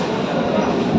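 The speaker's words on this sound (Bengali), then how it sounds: "ট্রেনটা এলো ভিডিও।" A 12-coach suburban train pulls into a station with a loud, steady rumble of wheels and cars nearby.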